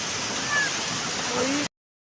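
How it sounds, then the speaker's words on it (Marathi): Shriram waterfall at Killa Dharur in Beed district gives a steady, broadband rushing wash of falling water, fairly loud and unbroken, before the sound cuts off abruptly. "धबधबेपाशी आलो फिरायला"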